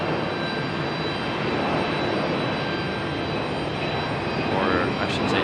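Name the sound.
Boeing 737 jet airliner departing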